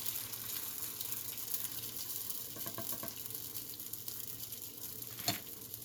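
Jalapeno popper wontons fry in hot oil with a steady, dense sizzle and crackle. Brief bursts and one sharp pop stand out against the continuous bubbling.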